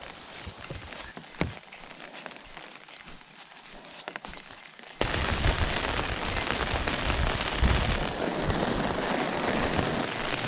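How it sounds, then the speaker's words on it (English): Rain falling on a forest trail in the Colorado mountains, starting as scattered drops and light pattering, then abruptly swelling into a steady, dense downpour on leaves and ground close by. "Are you all excited about the rain?"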